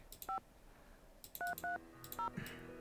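Touch-tone telephone dialing in a Nancy Drew video game: four short beeps tapped at an uneven pace, heard quietly over a faint background.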